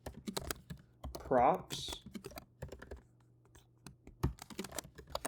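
Keys clack in quick, uneven bursts as code is typed on a computer keyboard, close and fairly loud, with someone talking over the typing throughout.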